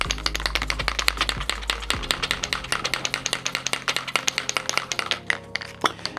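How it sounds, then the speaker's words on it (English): A metal spray adhesive can rattles rapidly as it is shaken, a mixing ball clicking inside in quick, even bursts close by, with a low hum underneath. "So give it a good shake."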